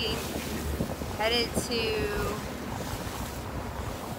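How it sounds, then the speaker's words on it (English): A water taxi in Venice crossing choppy water: steady rumbling engine and rushing water under heavy wind buffeting on the microphone, close and continuous, while a person speaks briefly over it. "We're on a water taxi."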